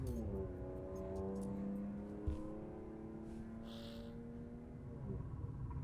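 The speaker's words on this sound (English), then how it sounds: "You guys hear that fucking car?" Loud car engine in the No Man's Sky space game, a steady droning hum with shifting pitch that holds throughout, with no talk over it.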